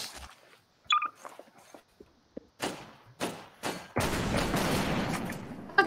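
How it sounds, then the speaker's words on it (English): Small explosions and gunfire in Garry's Mod pop as a scatter of sharp, separate bangs and clicks, then give way to a steady noisy burst near the end, with no voices. "The world's smallest explosion."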